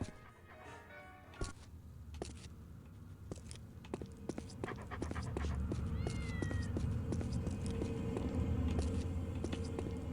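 Cats meowing in the video game Postal, with several short meows and a rising cry over game ambience and footsteps. A louder, steadier background swells partway through.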